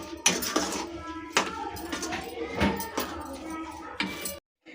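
Pineapple kesari with sugar melting into it is stirred in a pan, giving a run of scraping strokes and light metallic clinks, fairly quiet and close.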